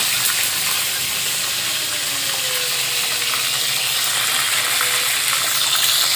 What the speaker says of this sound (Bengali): একে একে সব পটলগুলো এইভাবে আমি ভেজে নেব